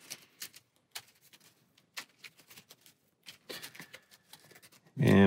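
Game cards shuffled by hand during a solo tabletop play session of Few and Cursed, a run of light, crisp riffling taps and flicks, close and fairly quiet, ending in a louder burst of handling at the end.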